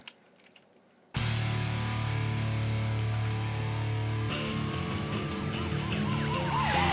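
Police sirens in Need for Speed Most Wanted cut in suddenly after a quiet start and wail loudly and continuously, with a sweeping, rising-and-falling tone taking over partway through.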